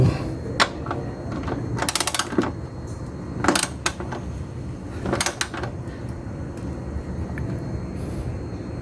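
A ratchet tightens the rear shock absorber bolts on a Chevrolet Spin, brief bursts of rapid clicking separated by pauses over a low background rumble, close and moderately loud.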